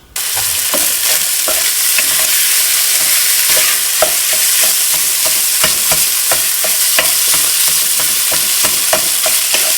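Sausage meat and spices sizzle loudly in a hot pan while a utensil stirs and scrapes, steady crackling frying broken by frequent sharp clicks of the spoon against the pan.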